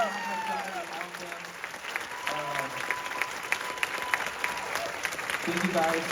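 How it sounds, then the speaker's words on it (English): A crowd applauds at a music film screening, clapping steadily and densely, with cheers, whoops and scattered voices rising over the clapping before it swells louder near the end. "Another round of applause for everyone else here."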